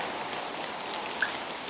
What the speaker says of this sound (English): And of course it's been raining and everything's soaking wet,